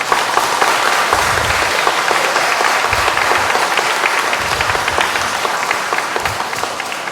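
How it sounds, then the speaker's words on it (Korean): Congregation at a Korean Catholic Mass applauds a father and daughter who presented the offertory gifts, a dense, steady wash of many hands clapping that fills the whole stretch at even loudness. "저 박수 부탁드리겠습니다."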